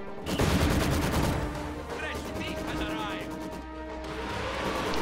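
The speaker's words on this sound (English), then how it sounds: "And Katyusha is firing his first barrage on the Oster base." Katyusha rocket launcher firing a barrage in Company of Heroes, a dense rapid roar of launches and blasts that swells loud and then holds as a sustained rumble, with a voice talking over it.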